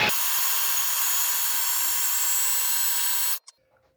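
A food processor grinds peanuts into peanut butter with a loud, steady high-pitched motor whir and gritty churning that runs unbroken, then stops abruptly, followed by a brief clunk and faint rattling.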